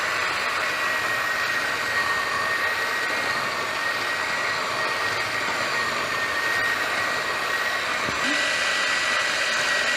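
An electric hand mixer beats carrot cake batter with a steady, dense whirring hum at close range, running continuously without a break.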